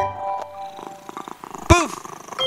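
A kitten gives a short, bright meow over soft purring within a children's song, with light musical tones and gentle background taps around it.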